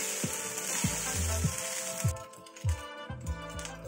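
Cooked rice for jeera rice is tossed in a hot pan, with a soft sizzle and repeated light metallic clinks and scrapes of a spoon against the pan, over faint background music.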